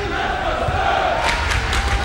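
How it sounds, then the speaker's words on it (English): A basketball crowd at a 2006 playoff game between Sterling and Collingswood rumbles steadily, rising with excited cheers and shouts in the gym, sustained and fairly loud. "you can hear Sterling's crowd coming alive, looking for something big out of their team"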